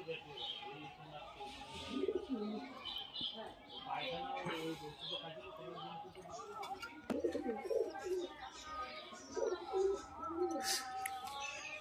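Pigeons cooing softly and repeatedly around a male bird, faint calls that come and go with low voices talking nearby.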